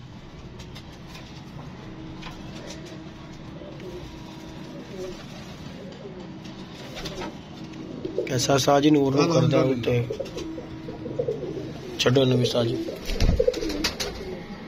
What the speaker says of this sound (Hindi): कबूतरों का आपको शौक करवा रहा हूँ